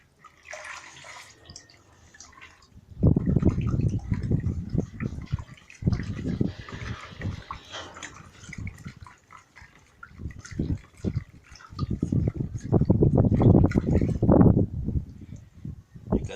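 Thick emulsion paint mixture being stirred, wet sloshing and churning in loud irregular bursts with quieter pauses between them.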